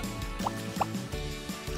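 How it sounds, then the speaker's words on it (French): Water pours into a toy bathtub in a soft, steady trickle with a couple of faint drips, quiet under a continuous low background hum. "La maman verse de l'eau dans la baignoire, jusqu'à ce que ça ressemble à un nuage."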